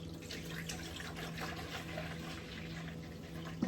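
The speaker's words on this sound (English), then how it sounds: "I'm just measuring out my distilled water to start." Distilled water pours steadily into a container on a scale while measuring soap-making ingredients, a soft continuous trickle heard alone at low level with a faint steady hum beneath.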